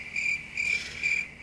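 Crickets chirp in three evenly spaced, shrill trills against a quiet background, with no other sounds.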